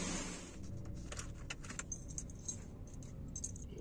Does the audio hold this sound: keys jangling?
yes